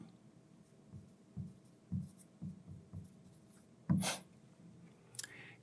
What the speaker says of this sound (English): I'm just going to write that up here.